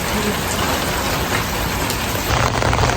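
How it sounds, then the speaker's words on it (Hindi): Steady rain pours down outdoors in Toronto at dusk, a dense even hiss of drops on surfaces that swells slightly louder near the end, with no voices. "बहुत मज़े की बारिश हो रही है।"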